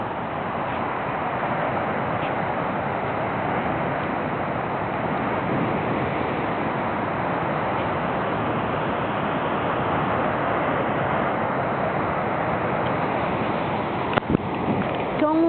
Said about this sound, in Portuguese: barulho encantador do mar